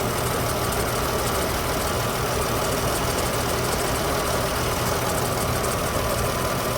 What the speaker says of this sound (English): But it acts like it's got a miss right now